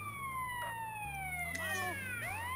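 An ambulance siren in the video game GTA San Andreas wails loudly in repeated rising and falling sweeps over a steady low engine drone for the whole stretch.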